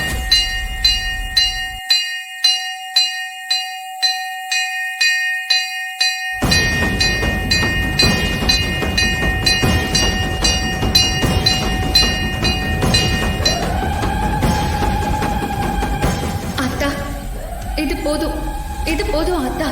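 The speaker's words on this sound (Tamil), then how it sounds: "இந்த கோவில் மணி சத்தத்தை உன்னோட ஆசீர்வாதமா நான் எடுத்துக்கிறேன்" Temple bell rung during a puja, struck repeatedly in a fast regular series of bright metallic clangs that ring out early and then blend into music and a dense backdrop of other sound, fairly loud and close.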